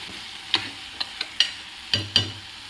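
Eggplant fries in oil in a pan for a masala curry, a soft steady sizzle broken by a handful of sharp, close scraping and clicking knocks as it is stirred.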